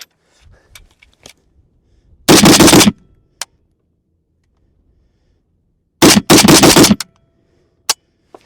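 A PSA AK-103K rifle fires two short, loud bursts several seconds apart, each a rapid string of sharp reports, with a few faint clicks and handling noises in between.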